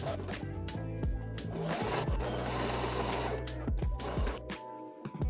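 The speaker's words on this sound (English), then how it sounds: "it's time to stitch the top of the pocket in place, as well as the short edge of the tool pockets" A sewing machine top-stitches the pocket edges of a waxed canvas tool roll, running in a steady, fast rhythmic patter throughout with a few brief pauses, close and fairly loud.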